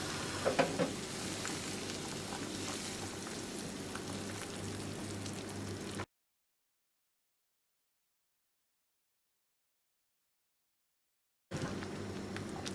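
Hot melted fat hisses and crackles steadily as soup is added to the pot, a dense, rain-like sizzle that stops abruptly, leaves a long stretch of silence, then resumes briefly.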